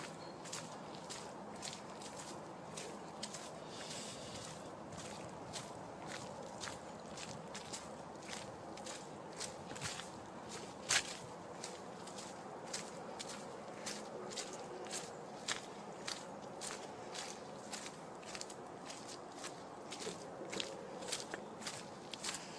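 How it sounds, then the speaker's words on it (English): Steady, regular footfalls crunch and thud along a canal towpath through fields, close by, with light outdoor ambience and no talking. "Hear the thud of footsteps coming behind me though."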